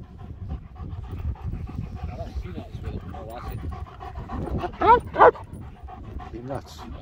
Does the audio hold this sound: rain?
no